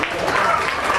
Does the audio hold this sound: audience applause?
yes